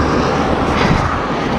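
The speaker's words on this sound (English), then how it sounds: "I apologise for the wind now." Wind buffets a microphone during a ride beside the A16 main road. The rush is loud and dense, covers the whole moment without a break and is heard alone.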